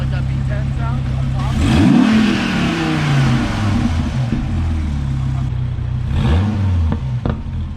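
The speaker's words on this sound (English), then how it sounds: "You can hear the Lambo in that though, like that V10 sound on" A Lamborghini V10 engine revs hard nearby during a street-racing outing, rising and falling roars over a constant engine drone, with a second rev burst later and voices talking underneath.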